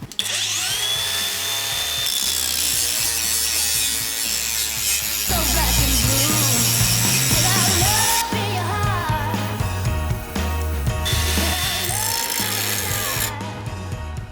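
A GRAND cordless angle grinder runs at maximum speed with a grinding disc on metal, giving a loud, continuous, close-up whine that shifts in pitch as it bites, with no voices.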